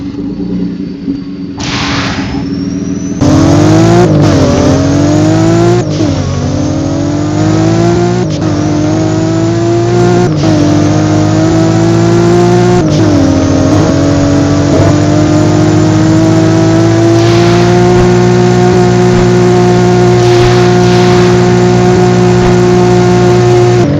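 Toyota car engine in the Driving Empire video game, revving loudly through repeated rising gear pulls with sharp shift breaks, a continuous close, strong engine note with no talk.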